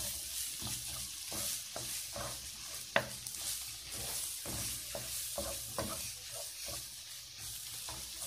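Flour-coated potato pieces frying in hot oil, a steady close sizzle with repeated stirring scrapes and clinks throughout, plus one sharper knock near the middle.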